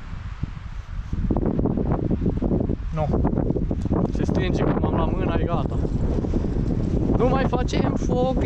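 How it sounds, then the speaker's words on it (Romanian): Strong wind gusts batter the microphone outdoors in snowy mountains, a loud, continuous roar and buffeting throughout, with someone speaking over it. "Bă, ce frumos era ieri și azi bate vântul."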